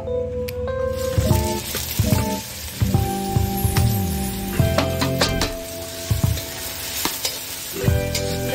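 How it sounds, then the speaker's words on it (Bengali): Papaya pieces fry in hot oil in a wok, a steady close sizzle broken by repeated stirring scrapes and wet squishes throughout, with no talking. "প্রথমে আমি পেঁপেটা ভেজে নেব।"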